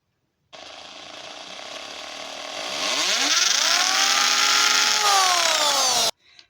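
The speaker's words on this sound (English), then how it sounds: "I'm going to go ahead and drill a hole through." Power drill boring a hole through material for a balloon photo frame, a steady whirring grind that builds and rises in pitch partway through, then cuts off abruptly near the end, heard alone and close.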